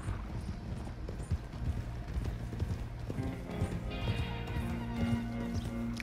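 Horse hooves clip-clop at a steady walking rhythm toward stables in Red Dead Redemption 2, close and clear over a low ambient bed of game music and faint mechanical noise.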